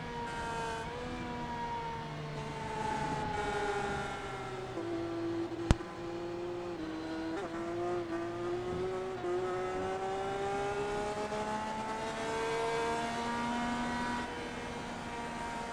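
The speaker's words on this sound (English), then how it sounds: "Let's listen to the engine note for Riku Alatalo." An onboard race car engine in the iRacing video game, driven on a slow out lap past Spoon Curve and down the long back straight at Suzuka, drones with a steady harmonic note that rises and falls through the gears, with no talk.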